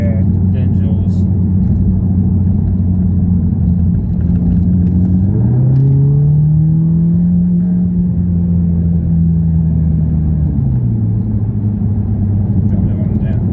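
An Audi S3 8V Black Edition, tuned to 400 bhp, idles with a low exhaust rumble, then its engine revs up and holds a higher pitch before dropping back to idle.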